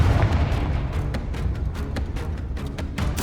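Fire-spell blast cast inside a tomb in Hogwarts Legacy, a dense, booming burst that rolls on as continuous rumbling impacts with sharp crackling spikes, loud and close throughout.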